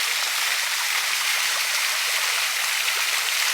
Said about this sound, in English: he's talking about this water fountain here